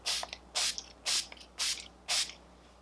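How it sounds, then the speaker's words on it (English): Five short bursts of makeup setting spray misted onto a face, evenly spaced about half a second apart, close and fairly quiet, with no talking. "So I just spray it all over my face."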